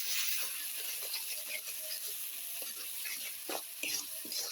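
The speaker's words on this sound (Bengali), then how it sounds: "একদম ভালো করে নাড়া দিয়ে দেবো।" Spice paste stirred in a pan over a clay stove, a steady broadband sizzle with scattered scraping clicks of the spoon, close and continuous throughout.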